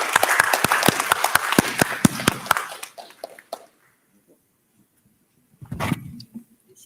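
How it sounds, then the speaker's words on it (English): Conference audience applauding panelists, a few seconds of close sharp clapping that thins out and stops, followed by silence and brief talk. "Thank you to our panelists, and a big round of applause."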